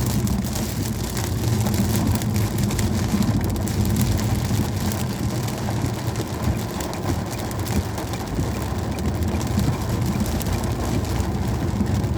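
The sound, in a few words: thunderstorm rain in Normandy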